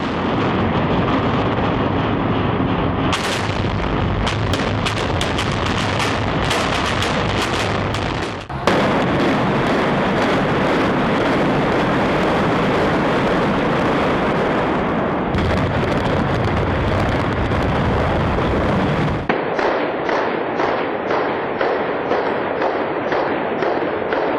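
A long, continuous barrage of loud explosions and rapid crackling blasts, dense and relentless, with shifting intensity but no pause or talking.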